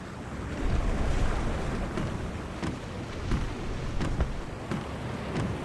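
Sea waves wash against a ship under sail in the video game The Longest Journey, a steady rolling surge with wind blowing throughout and occasional creaks, fairly close and continuous.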